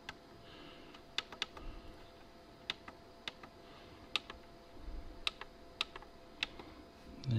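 Typing a password on a Dahua NKB1000 keyboard, with sparse, irregular close key clicks spread across the stretch against a quiet room hum.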